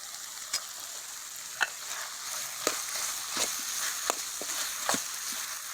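Gongura leaves sautéing in a pan, a steady faint sizzle with soft periodic scraping and stirring strokes, fairly close and without talk.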